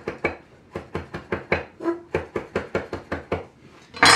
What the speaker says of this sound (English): And just lightly chop that up as a garnish.